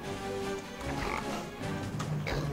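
A pig oinks and grunts in the video game Rayman Adventures, several short snorts close up over faint background game sound.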